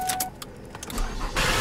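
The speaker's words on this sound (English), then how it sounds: "Start the car." Lincoln car engine starting after an oil change, a few clicks and a short cranking whir followed by the engine catching into a louder steady idle, close by.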